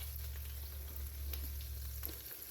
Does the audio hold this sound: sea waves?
no